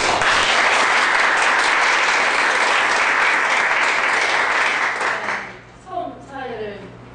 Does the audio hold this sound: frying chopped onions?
no